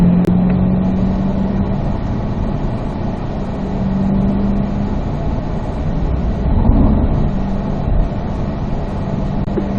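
A C8 Corvette at speed on a race track, its engine a loud, steady drone that swells slightly and holds as the car brakes into a tight left-hand corner.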